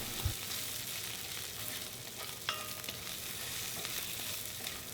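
Chopped onions browning in a tablespoon of olive oil, a faint steady sizzle with a few light knocks and stirring touches, quiet and without talk.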